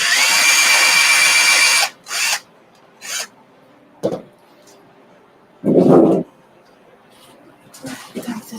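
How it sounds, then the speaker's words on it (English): A power drill bores into a wood dowel in one loud, sustained whine of about two seconds, followed by brief scraping and rubbing bursts and quiet handling. "so let's drill this one"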